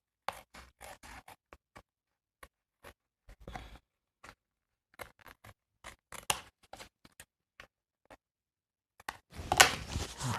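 Scissors trim paper during card-making, a quiet series of short, separate snips spaced irregularly, ending with a louder rustle of paper being handled.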